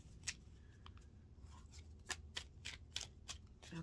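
Crisp riffling of a deck of cards being shuffled, a run of sharp flicking bursts close by, with no talking.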